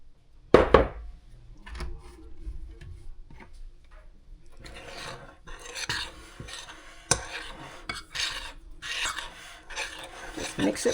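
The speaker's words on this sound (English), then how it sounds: "Mix it really good." Spoon scraping and rasping through biscuit dough as milk is mixed in with baking mix in a bowl, irregular rubbing strokes close by, with a sharp clink near the start.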